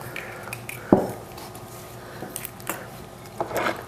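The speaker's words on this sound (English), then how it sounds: "And let me get our pan." A metal sheet pan clanks once as it is pulled out and set down in a home kitchen, followed by lighter scrapes and taps of cookware being shifted around, with no talking.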